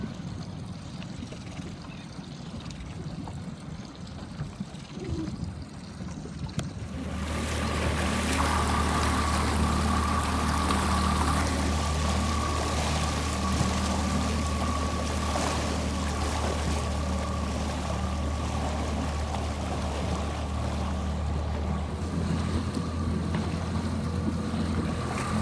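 Water rushing past a boat hull under a steady low engine hum, close and continuous, near a C420 dinghy regatta racing pack; quieter at first, then swelling loud and constant.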